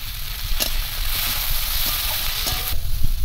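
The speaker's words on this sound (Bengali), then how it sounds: "পেঁয়াজ ভাজা হয়ে গেছে" Chopped onions with a pinch of salt fry in a pan, giving a continuous close hiss of sizzling with a few brief scrapes and clatters of a utensil and no voices.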